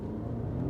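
A 2019 Toyota Camry 2.5V launching hard with wheel spin on an empty stretch of road: a loud, close, steady engine drone with dense low harmonics, building slightly over a brief moment, with no voices.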